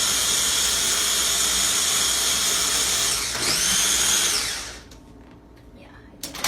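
An electric blender purees strawberries in a steady, loud high whir that holds for several seconds, rises briefly in pitch, then winds down and stops, leaving faint clatter.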